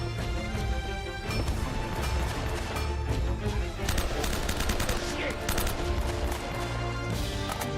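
Gunfire in Uncharted: Drake's Fortune, repeated shots and short bursts mixed with impacts and crashes over a busy game soundscape with background music, fairly faint overall.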